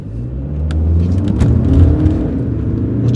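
A Skoda Superb L&K 2.0 TDI DSG 4x4 engine roars and builds as the car pulls away hard from a standstill, a steady rising rumble with no voices.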